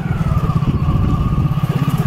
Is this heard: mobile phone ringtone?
no